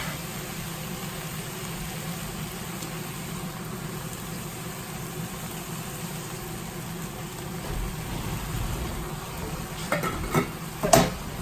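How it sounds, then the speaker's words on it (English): Lettuce salad mix stir-fried in a hot pan gives a steady close sizzle with soft scraping of the utensil, swelling into louder clattering stirs near the end. "I stir fry the lettuce"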